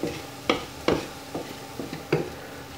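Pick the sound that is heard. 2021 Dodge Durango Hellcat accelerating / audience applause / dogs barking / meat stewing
meat stewing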